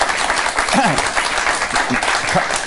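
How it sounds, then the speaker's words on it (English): A political audience gives sustained applause, a steady dense wash of clapping with a voice briefly heard over it. "Applause for that."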